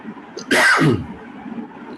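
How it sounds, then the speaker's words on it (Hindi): One sharp, explosive cough bursts out at close range, brief and loud against a quiet, faintly humming background. "देखो मुझे भी खांसी आ रही है काफी।"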